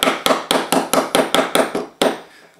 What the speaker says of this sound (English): So I'm sort of resorting to using smaller chisels and taking just a little bit off at a time.